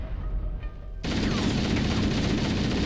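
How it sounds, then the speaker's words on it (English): A grenade goes off in the video game Halo, a sudden loud blast that cuts in after a quieter stretch and leaves a dense, sustained rumble of noise. "You can throw a grenade on him."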